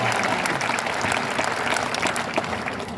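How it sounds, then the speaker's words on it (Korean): A Korean church congregation gives a round of applause at the close of a prayer, a loud, dense, sustained burst of many hands clapping at close range, with faint voices underneath. "하나님께 영광의 박수 올리겠습니다."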